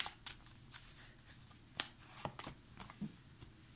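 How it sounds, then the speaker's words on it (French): Tarot cards are slid and drawn from a deck close up, with quiet papery flicks and soft snaps at irregular intervals in a hushed room. "On va prendre 3 cartes."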